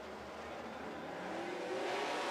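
Late model race cars roar away together at a green flag start on an oval track, a dense, steady engine drone that builds in loudness over a couple of seconds with a rising pitch.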